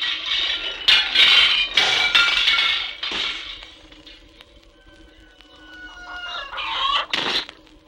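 Chickens cluck in bursts with a sharp clinking, breaking sound early on, then quieter high calls and a brief crow-like cry near the end.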